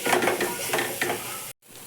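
Crushed coconut is stirred into sautéed onions in a hot pan, giving a close, steady sizzle with scraping stir strokes. The sound cuts off abruptly near the end, then returns faintly.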